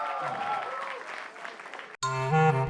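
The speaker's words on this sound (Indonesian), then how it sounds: "Tepuk tangan buat Arif." A stand-up comedy audience claps for a comedian for about two seconds, fairly faint, before the sound cuts to a different, louder tonal passage.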